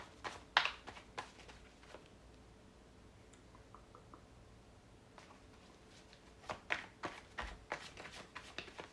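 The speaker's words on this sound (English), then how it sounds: "as I keep shuffling, keep looking" Tarot cards being shuffled by hand, with soft riffling bursts near the start and again toward the end, separated by quieter stretches of faint handling ticks and light rustling.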